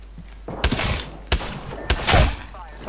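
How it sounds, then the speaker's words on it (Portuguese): Several loud gunshot bursts in quick succession, punchy and close, separated by short gaps, with a faint voice in the background. "Já dei tantos tiros!"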